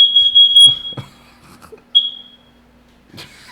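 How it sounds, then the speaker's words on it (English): A fire alarm sends out high, piercing beeps, one long tone followed by a second shorter chirp, loud and close, with some clattering and a faint steady hum in the background. "this is the second time a fire alarm has gone off."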